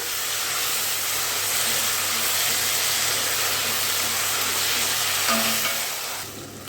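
Tomatoes, green chilies and curry leaves sautéing in oil for a chicken kulambu, a loud, continuous close-up sizzle and hiss that holds steady and fades slightly at the very end; no voices.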